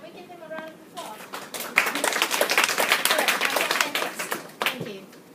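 An audience breaks into a round of applause, starting with a few scattered claps and swelling into full, dense clapping that fades near the end, with faint talk at the very start.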